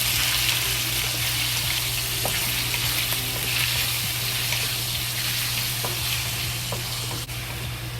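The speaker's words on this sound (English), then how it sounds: "When the oil is hot, we add the pork into the oil." Pork slices fry in hot oil in a pot, a steady, loud, close sizzle that holds without a break, with a few faint clinks and no voices.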